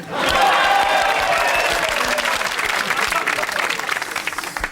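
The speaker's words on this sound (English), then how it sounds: "A round of applause for Switzerland's many borders." Studio audience at a comedy variety show breaks into loud applause with cheering and whoops, a thick, sustained burst of clapping that stays strong throughout.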